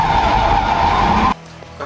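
A car pulled sideways through a curve in a drift gives a loud, sustained tire screech with engine noise underneath for just over a second, then cuts off abruptly into quieter background.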